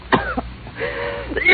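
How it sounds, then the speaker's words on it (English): A character in an old-time radio detective drama coughs: a couple of short, rough coughs close to the microphone, followed by a brief throaty rasp. "You got a bad cough."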